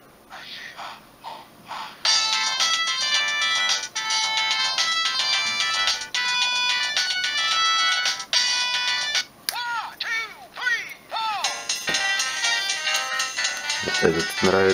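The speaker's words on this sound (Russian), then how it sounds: "Всего тут 25 рингтонов." Several Samsung C200 mobile phone ringtones play one after another: bright polyphonic synth melodies and sweeping tones, loud and close, with brief breaks as one tune switches to the next.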